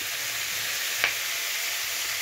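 Chopped onion sizzles steadily in hot oil, a constant bright hiss with a single brief clink of a utensil midway, close and even throughout without talking.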